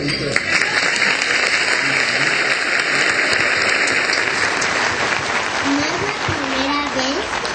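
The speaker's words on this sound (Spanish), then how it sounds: "Un aplauso." A crowd of retirees at a rally outside Mexico's Supreme Court of Justice claps steadily and loudly, filling the whole stretch, with a few voices rising beneath the applause.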